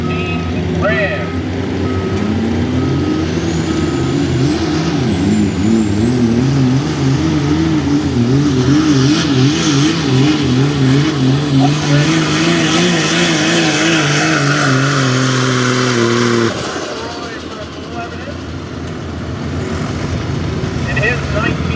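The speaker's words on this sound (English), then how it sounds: "on the diesel side, this is Joe Musser from Reinhold's 2014 Ram" A 2014 Ram diesel pickup truck strains loudly down a street truck-pulling track, its engine note rising and wavering, then easing off near the end, with an announcer talking over it.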